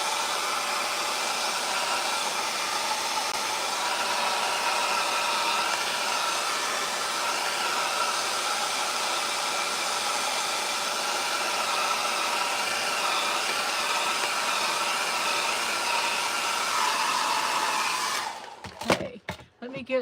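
A hair dryer blows steadily and close for about eighteen seconds while drying a thrifted book holder, then shuts off, leaving a few brief clicks and handling noises.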